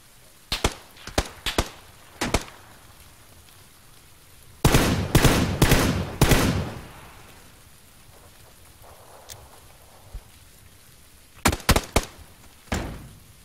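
Bursts of video game gunfire, some single sharp shots and a dense rapid volley in the middle, with more quick clusters of shots near the end, loud against a quiet background.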